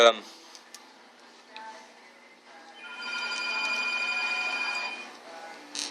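A workplace telephone rings with a steady electronic trill for a couple of seconds in the background while people talk nearby.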